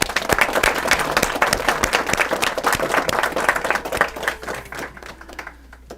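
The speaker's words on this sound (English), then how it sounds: "Let's give him applause and thank him" A room full of people clapping steadily, loud and dense, then thinning out and fading near the end.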